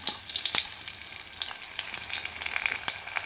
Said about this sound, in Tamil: இப்போ வந்து தாளிச்சிடலாம். பிரிஞ்சி இலை, சோம்பு, பட்டை, கிராம்பு, ஏலக்காய்,